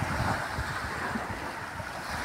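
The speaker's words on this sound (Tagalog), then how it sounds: "dagat medyo ingay" Sea waves at a beach in the Philippines wash continuously with a broad roaring hiss, mixed with wind buffeting the microphone, steady and fairly loud throughout.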